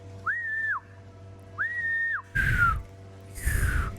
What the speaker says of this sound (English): What I do is I whistle.